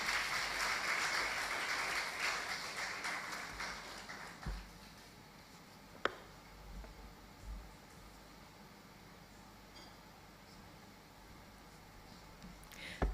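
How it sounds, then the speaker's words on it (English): Applause from a dinner audience at a corporate governance society's annual induction ceremony, a dense wash of clapping in the opening seconds that thins and fades away, leaving faint room noise with a few isolated claps. "Another round of applause, please."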